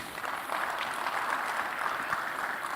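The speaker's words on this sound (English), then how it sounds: "let's hear a clamorous round of applause" An audience at the Africa Gaming Expo 2026 applauds in a hall, a steady, fairly distant wash of crowd clapping heard faintly with no distinct individual claps.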